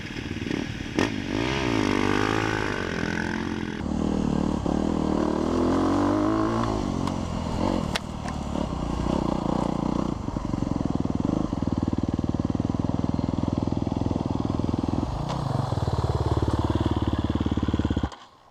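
A 2024 Sherco 300 SEF Factory four-stroke off-road motorcycle runs close by, its engine note climbing and falling through revs and gear changes in a loud, continuous drone that holds for about eighteen seconds before cutting off.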